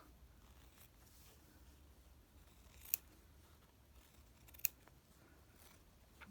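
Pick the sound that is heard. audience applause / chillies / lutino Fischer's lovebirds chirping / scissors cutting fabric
scissors cutting fabric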